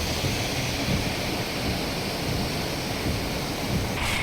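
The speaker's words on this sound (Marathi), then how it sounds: "वैभववाडीत दुपारी एक वाजल्यानंतर पावसाचा जोर वाढला" Heavy, continuous rain pouring in Vaibhavwadi, a dense, loud, unbroken wash of noise that holds steady throughout without talking.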